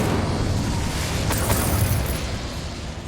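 A fire spell cast in a Hogwarts Legacy fantasy game, a loud sustained roaring whoosh of flame that fills the whole moment and fades slightly at the end.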